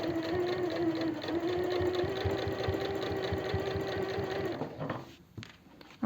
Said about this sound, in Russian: Даем строчку по самому краю